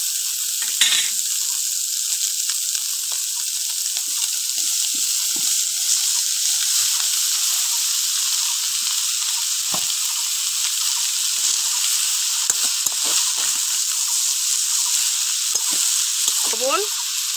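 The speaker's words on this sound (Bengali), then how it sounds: "চিংড়িটা ভেজে নিয়েছি, এবার মোচা দিয়ে দেবো" Banana flower goes into a pan of prawns already frying, giving a steady loud sizzle throughout with occasional stirring scrapes and a brief hiss of added moisture near the end.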